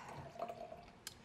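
Sancerre wine poured into a glass at a kitchen table, a soft trickling liquid stream with faint drips, close and quiet, ending in a light clink.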